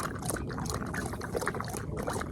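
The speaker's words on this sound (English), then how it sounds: "Get him a nice full bowl of water." Water pours steadily into a dog's bowl outdoors on a mountain trail, a close, continuous splashing trickle lasting a couple of seconds.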